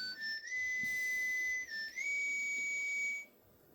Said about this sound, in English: your whistle's kind of messed up, Proto Man.